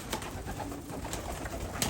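Nuremberg pigeons with red skin around the eyes coo in a loft, a steady low murmur of several birds close by with no talk.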